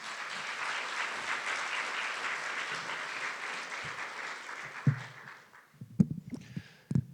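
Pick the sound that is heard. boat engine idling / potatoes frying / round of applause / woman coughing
round of applause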